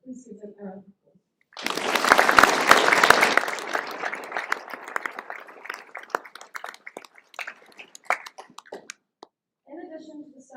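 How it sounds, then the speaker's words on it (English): An audience at a Year 10 prize-giving ceremony bursts into applause for school staff and volunteers. The clapping swells and then thins into scattered claps, with a speaker's voice briefly before and after. "Please give them a round of applause."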